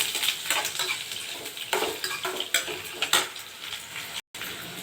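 Ladies finger and dal sauté in a pan with a steady bright sizzle, punctuated by repeated scraping strokes of a spatula stirring, close and alone without any talk.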